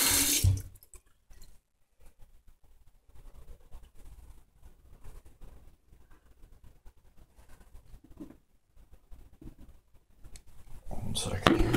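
Tap water running at a bathroom sink for washing with soap, a loud splashing stream at the start and again at the end, with quiet handling noises and faint murmuring in between.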